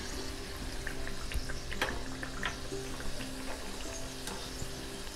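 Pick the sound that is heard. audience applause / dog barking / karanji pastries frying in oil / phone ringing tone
karanji pastries frying in oil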